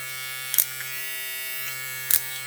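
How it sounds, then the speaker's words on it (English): A StyleCraft Rival/Reign hair clipper motor runs close up with a steady, even electric buzz, broken by two short louder clicks or bumps about a second and a half apart. "I'm gonna go ahead and turn the clipper on for y'all."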